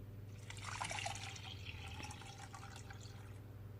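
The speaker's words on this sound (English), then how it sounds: "And I will add my water." Water poured into a pan of washed lentils makes a soft, continuous gurgling trickle, faint but close, with no voices.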